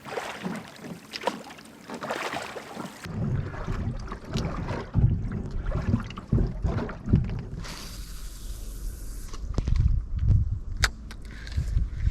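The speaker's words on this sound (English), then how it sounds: "I'm heading out early in the morning with my small fishing boat." Gentle water lapping and sloshing against a small fishing boat on a misty, cool morning, with occasional knocks and creaks, plus a brief burst of wind noise midway.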